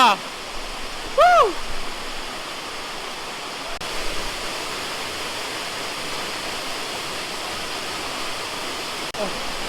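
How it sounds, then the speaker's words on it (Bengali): A waterfall near Nagarkot, Nepal pours nearby in a loud, steady roar that fills the scene, with a brief whistle-like chirp near the start. "আর ঝর্ণার এত পরিমাণ সাউন্ড।"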